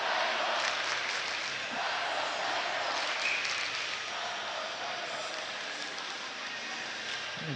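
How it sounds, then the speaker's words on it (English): Spectators for Manchester Central fill a high school hockey rink with continuous, even cheering and clapping during a game against Londonderry, a dense crowd roar throughout. "And you can hear the Central crowd getting into it now."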